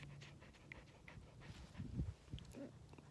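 Bailey the dog panting close by on a quiet woodland hike, quick soft rhythmic breaths with a faint whimper near the end.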